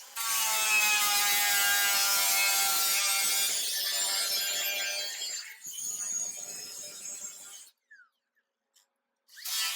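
An angle grinder runs across a car body panel with a loud, continuous whining screech, then tapers into rougher grinding before cutting out, with silence near the end.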